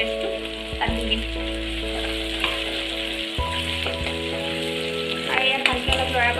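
Ginger garlic paste with dried and fresh chillies fries in a pan with a steady close sizzle and intermittent stirring scrapes, over a low steady hum.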